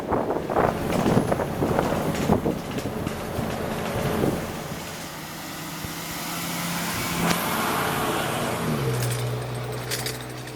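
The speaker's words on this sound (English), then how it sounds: "It's a bus that's made up to look like a tourist trolley, so just gonna joyride this and see where it goes." Ride inside Albuquerque's downtown circulator, a bus built to look like a tourist trolley: engine drone, rattles and rumble, with wind noise, rising and falling as it accelerates and slows, ending in a steady low idle hum.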